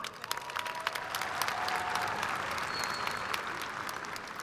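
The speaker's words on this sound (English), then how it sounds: "Let's give our superintendent a big round of applause." A high school graduation crowd at Carl Wunsche Sr. High School in 2022 applauds its district superintendent, broad sustained clapping from a large, somewhat distant audience with a few faint whistles on top.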